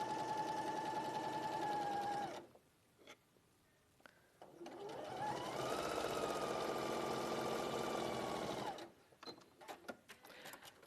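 Domestic sewing machine stitching a quarter-inch patchwork seam, a steady rapid whirring chatter in two close bursts separated by a brief pause, ending in light clicks and handling.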